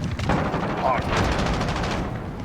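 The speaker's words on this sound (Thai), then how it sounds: "มาถึงก็ยิงกันเลย" Gunfire in Call of Duty multiplayer: loud, rapid bursts of shots with booming echoes packed into a couple of seconds, with a player's voice partly mixed in.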